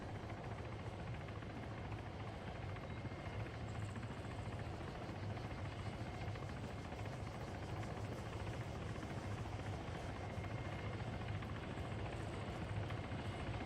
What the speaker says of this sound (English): That helicopter is not going to survive.